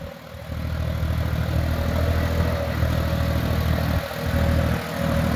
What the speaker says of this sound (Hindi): देखो भाई यो जोनडियर चल रहा है ऐसा